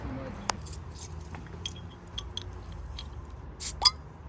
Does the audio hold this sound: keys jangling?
yes